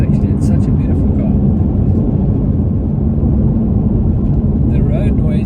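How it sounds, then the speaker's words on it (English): Steady, loud tire roar and road drone from inside a BMW M2 Competition at speed, a constant low rumble filling the cabin with no breaks, with faint talk over it. "The road noise you can hear quite a bit with those tires"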